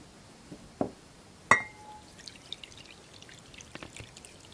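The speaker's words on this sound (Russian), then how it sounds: "И теплую воду сюда наливаем." Warm water poured into a bowl, quiet trickling broken by a couple of sharp clinks against the dish.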